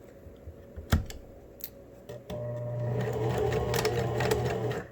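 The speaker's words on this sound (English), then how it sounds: "I just did a little double stitch over that just to make sure." A sewing machine stitches through face mask elastic and fabric layers, a couple of sharp clicks first, then a steady close motor whir running without pause for several seconds.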